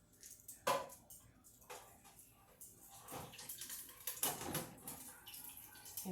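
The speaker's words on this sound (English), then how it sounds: "Can you hear it? It's bubbling." Hot oil in a deep fryer at around 365 degrees cooks pork egg rolls, giving a faint, irregular sizzle and bubbling with scattered soft pops and splashes, close but quiet.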